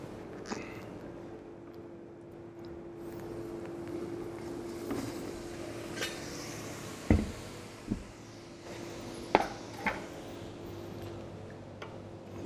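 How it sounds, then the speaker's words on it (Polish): Liquid nitrogen is poured into a serving dish in a kitchen, giving a steady hissing, bubbling wash of noise with a few faint knocks and clinks. "Więc do naczynia wlewamy ciekły azot."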